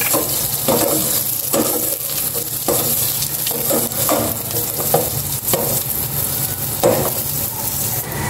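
Garlic sautéing in a hot pan, a loud continuous sizzle broken by frequent scraping stir strokes, close up with no talking.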